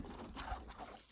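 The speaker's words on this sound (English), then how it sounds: "Put the rest of the water in" Water trickling and pouring into a container outdoors on a hot day in the Algarve hills, a faint, soft liquid sound with low rumble underneath and no speech.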